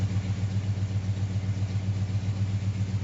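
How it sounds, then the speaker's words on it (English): A 1984 K30 truck engine idles steadily, with an even low rhythmic throb and a constant mid rumble, close and moderately loud with no other sounds. "She ain't idling at no 1200 RPMs."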